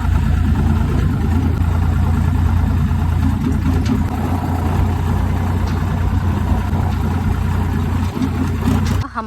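A tractor engine idles steadily on a farm field, a constant low rumble running loud and close the whole way through with no pauses.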